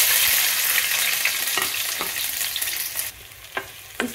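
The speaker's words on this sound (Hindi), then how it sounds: "इसमें प्याज डाल देते हैं।" Onions sizzling in a spoonful of hot oil in a home kitchen pan, a steady close hiss with a few light stirring clicks, no voices.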